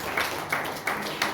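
A church congregation claps during a Sunday worship service, with four evenly spaced bursts of hand claps sounding steady and moderately loud across the room.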